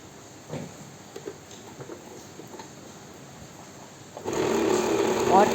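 A sewing machine starts up near the end, stitching fabric for a ladies' trouser design, a loud close mechanical whir after a quieter stretch of faint handling sounds.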